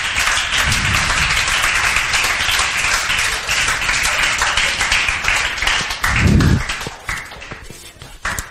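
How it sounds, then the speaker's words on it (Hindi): Loud, continuous applause from a class of students, steady dense clapping throughout with a brief louder swell near the end. "जोरदार तालियां बजाओ"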